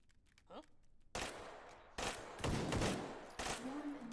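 Gunfire in a video game, with bursts of sharp shots and rapid fire over a few seconds, loud and close, mixed with other game sounds.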